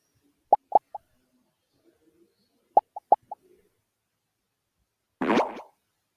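Several short wet plops in two quick clusters, then a single squishy burst at the end, with silence between; a squish pop sound effect played in Scratch.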